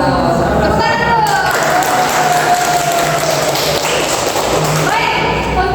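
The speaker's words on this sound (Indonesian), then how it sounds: "Tepuk tangan dulu." A class of students claps in a loud, busy patter of applause that fills the room for several seconds, with voices talking over it.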